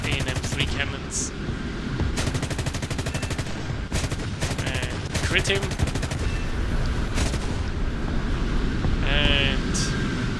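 Rapid bursts of aircraft cannon fire from a Douglas F3D-1 Skyknight naval jet fighter in a combat flight game, repeated rattling volleys under a steady engine drone, with someone talking briefly over them.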